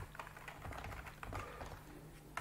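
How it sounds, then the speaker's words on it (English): Quick, light keystrokes tap on a computer keyboard in a short irregular burst, close and fairly quiet against a faint room hum. "you can type Theme Composer."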